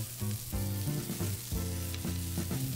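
Potato buns and burgers sizzle on a Weber Q griddle, a steady close frying hiss with brief scraping bursts, no voices.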